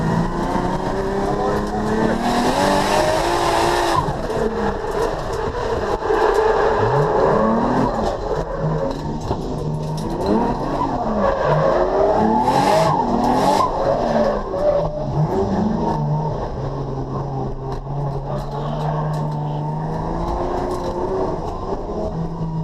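A race car with a 1JZ engine swap runs hard on a track, the engine revving up and down through the gears with a tyre squeal, loud and continuous while people talk over it.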